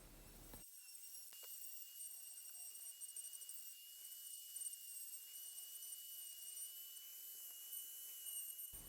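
A power carving tool fitted with a taper burr shapes a nose, mouth and beard, producing a steady high-pitched whine that stays faint and continuous throughout, with no talking.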